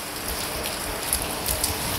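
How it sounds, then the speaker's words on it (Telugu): Rain falling during a trip in Gokarna: a steady, dense patter of drops hitting surfaces nearby, with a few sharper individual drop impacts standing out and no talking. "ఇలా రెడీ అయ్యాము వెళ్దామని చెప్పి వర్షం స్టార్ట్ అయింది."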